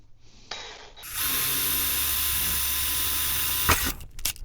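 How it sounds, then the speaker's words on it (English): A power drill with a pilot bit bores a hole while a Honda Shadow 750 motorcycle's front fender is being raised, a steady close whirring drone lasting about three seconds before stopping. "and do the same kind of drilling"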